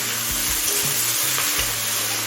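Brinjal, onion and cauliflower frying in a pan give a steady, close sizzle with occasional stirring scrapes and low bumps throughout, no voices.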